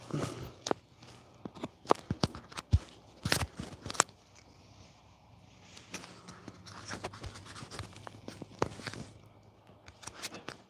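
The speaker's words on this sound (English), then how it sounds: "you're probably hearing this freaking necklace clinging and clacking" A necklace clinks and clacks in sharp, irregular bursts close to the microphone, with quieter rustling between the clusters of taps.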